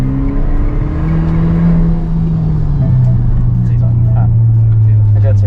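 A Proton X50 accelerates in race mode with a loud, steady engine drone heard from inside the cabin, its pitch shifting gradually, while people talk over it.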